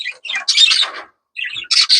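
Birds in a breeding cage let out loud, harsh squawks close by, in two bursts separated by a short silence, with no talk.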